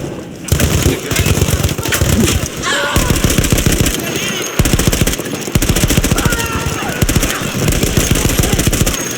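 Machine gun fire in Battlefield 1, a manned emplacement shooting in long rapid bursts with short pauses between, loud and close, with battle noise around it.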